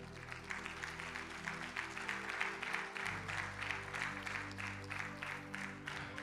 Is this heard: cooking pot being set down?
no